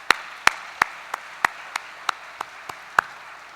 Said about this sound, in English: Congratulations, and give yourself a round of applause.